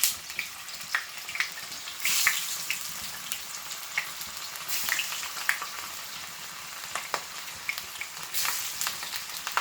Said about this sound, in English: So my salmon is now frying.